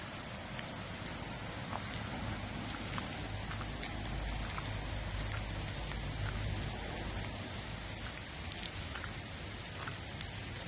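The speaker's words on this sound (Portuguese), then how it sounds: "Hoje não está chovendo muito" Light spring rain falls beside a river in the open air, a steady soft hiss of drops pattering evenly without any voices for about ten seconds.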